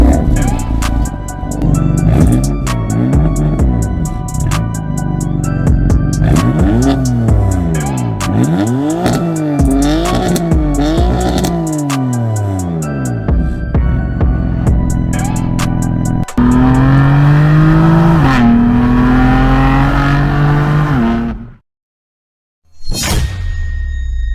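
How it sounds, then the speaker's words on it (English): A 2017 BMW M4's twin-turbo 3-liter inline-6 engine revs hard again and again, rising and falling pitch with loud roaring sweeps, then settles into a steady drone before cutting off briefly. "Under this hood, you get a twin-turbo 3-liter inline-6 BMW M engine"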